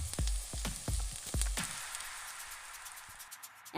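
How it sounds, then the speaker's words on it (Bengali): Chopped potato and small eggplant pieces fry together in a pan, a steady bright sizzle under a few sharp knocks of a spatula against the pan early on, then the hiss alone and gradually quieter. "এখন আলু আর বেগুনটা একসাথে আরও কিছুক্ষণ ভেজে নিচ্ছি।"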